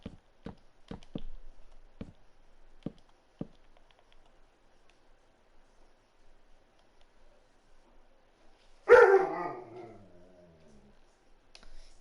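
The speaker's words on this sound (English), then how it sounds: "He won't stop barking." A pet dog lets out a single sharp bark or yelp after several seconds of quiet, with a few faint tapping clicks earlier on.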